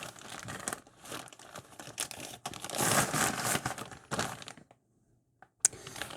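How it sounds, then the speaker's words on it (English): Crinkling and rustling of a plastic packaging bag from a SteelSeries Arctis Nova 5X headset in bursts, loud and close, then a brief pause and one sharp crackle near the end. "It's like a one-way plastic bag."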